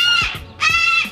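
Pet bird squawking twice, loud and close, each call a harsh harmonic screech, the two bursts separated by a short pause with low handling thumps between them.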